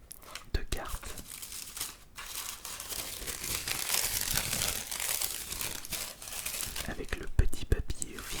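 Boxes of PCA graded Pokémon cards being opened, with crisp paper crinkling and rustling in close, irregular bursts and soft whispered talk throughout.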